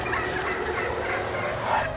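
Wild turkeys gobbling in the woods at dawn, a continuous overlapping chorus of calls at fairly even loudness.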